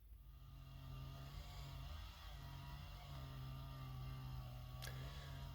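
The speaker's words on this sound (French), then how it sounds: "On est souvent réveillé par des bruits de moteur comme ça" A vehicle engine runs steadily outside a parked camper van, a low continuous hum with a brief sharp click near the end, moderately close but fairly quiet.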